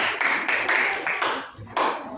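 Brief bursts of clapping from a middle-school class, a few rhythmic rounds of hands close by, with a voice briefly speaking.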